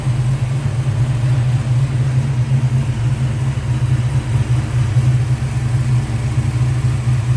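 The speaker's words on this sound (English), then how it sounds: "Smooth running engine." The engine of a 1976 Plymouth Volare custom build with headers runs smoothly, giving a loud, steady, close idle with a deep even rumble and no talk over it.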